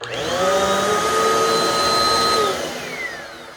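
A Mainstays upright vacuum cleaner runs close by over a living room floor with a loud whining motor hum, its pitch shifting slightly before it winds down near the end.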